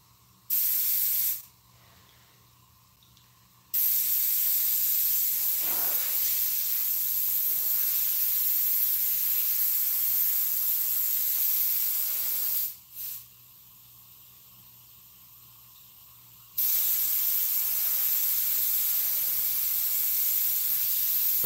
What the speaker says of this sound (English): let me put a little bit of carburetor cleaner in the old airbrush